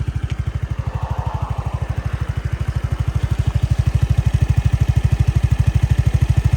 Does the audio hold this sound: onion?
no